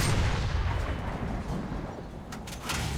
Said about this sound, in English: you can keep hitting, and it's not going to hurt the tank at all.